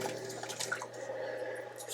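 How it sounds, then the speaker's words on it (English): Heavy cream poured into a metal tin before whipping for Irish coffee, a soft, steady liquid trickle that stays faint and even for about two seconds, with no voices. "and just pour some heavy cream in there"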